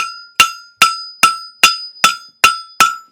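Hammer forging metal on an anvil, eight sharp ringing strikes at a steady, even rhythm, each with a bright metallic ring that decays before the next blow, close and loud with no talk.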